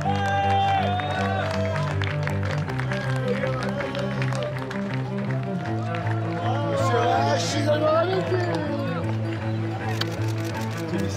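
Finish line of the 2019 Marathon des Sables desert ultramarathon, where a crowd keeps up steady applause and cheering throughout, mixed with a loud music bed and some crowd chatter.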